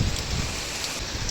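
Heavy rain pours steadily at a fishpond in Cainta, Rizal, a dense, constant hiss with a low rumble and no break through the short stretch.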